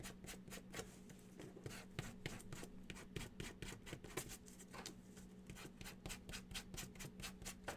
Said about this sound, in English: So let's sand our flowers just a smidge